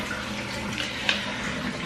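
Tap water running in a home during chores, a steady close rush of flowing water heard alone for a couple of seconds.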